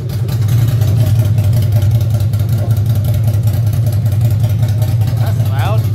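A Ducati Monster V-twin runs with its exhaust pipes removed, giving a loud, steady, throaty low rumble that holds at an even idle for the whole stretch, close by.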